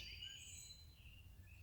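Small birds chirp and tweet in a backyard garden, faint high calls over a low background hum, brief and close together with no talking.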